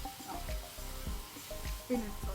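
Pad thai ingredients being stirred in a hot pan at a Thai street food stall, quick repeated scraping strokes with light sizzling, close by, with a voice talking over them.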